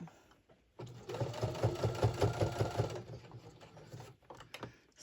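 A sewing machine stitches binding onto a Christmas mug rug, running in a close, rapid mechanical burst of about two seconds between brief quiet moments, with a few soft handling clicks around it.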